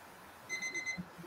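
Timer alarm ringing in a room, a short burst of four rapid high electronic beeps, clear but brief, over a faint background with no talk.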